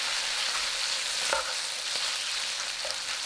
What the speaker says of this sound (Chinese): 继续翻炒，放入里脊肉，